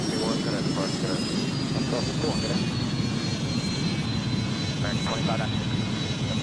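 A steady airliner engine drone with a high whine fills the cockpit during a landing approach in the Airline Commander flight game, continuous and close, with a person talking over it.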